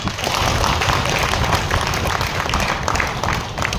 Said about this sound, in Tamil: எல்லாமே கைத்தட்டுங்களேன்